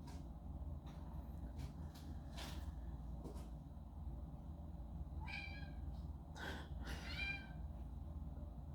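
An indoor cat meows twice in the later part, short faint cries over a steady low room hum with a few soft knocks earlier, in a room where painting is underway.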